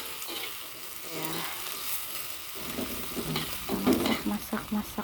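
Shallots and garlic stir-frying in a pan, a hissing sizzle that swells midway, then a run of quick rhythmic spatula clanks and scrapes near the end, close, with faint background voice.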